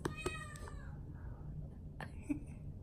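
Kittens meowing in a short series of high, plaintive cries, a few clustered at the start and another pair near the end, with quiet room noise between them.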